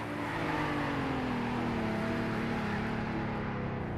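Mercedes G-Wagon in the Greenville video game running flat out near 134 mph, a steady, slightly wavering engine drone holding at speed with road and wind noise beneath, easing off at the very end.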